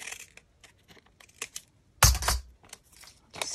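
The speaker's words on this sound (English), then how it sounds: "I'm going to cut here. I'll use these scissors again." Scissors snipping through thin sewing pattern paper, a few quick crisp cuts with one louder rustling crunch of paper midway, close and alone with no talk.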